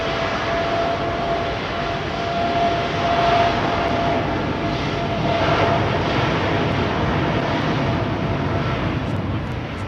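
Etihad airliner taking off, a steady broad jet roar that swells slightly and holds at a distance, loud and continuous with no voices.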